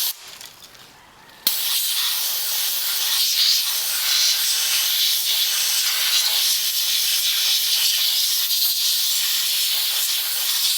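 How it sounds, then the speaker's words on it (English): Compressed air blasts out a Kawasaki Turbo 750 cylinder head in a loud, continuous hiss that starts abruptly after a quiet second and holds steady to the end. "Now I'm going to use some air and blow the rest out."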